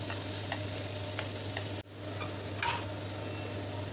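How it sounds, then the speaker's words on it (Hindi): Onions fry in a pan with a steady sizzle, a stirring scrape cutting in briefly partway through before the frying noise resumes. "प्याज को ज़्यादा हमें पकाना नहीं है, सिर्फ एक मिनट के लिए फ्राई करना है अच्छे से"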